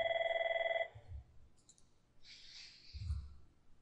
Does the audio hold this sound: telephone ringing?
yes